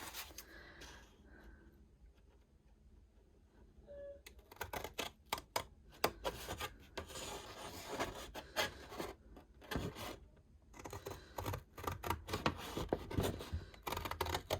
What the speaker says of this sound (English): so let me grab my other scissors.